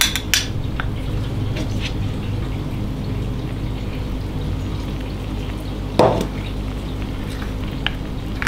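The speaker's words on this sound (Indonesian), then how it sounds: "Aduk-aduk sampai gulanya mengental, sedikit mengental." A utensil scrapes and taps against a pot of thickening sugar mixture with glutinous rice flour, in a soft, irregular rhythm over a low background hum, with one sharper clink partway through.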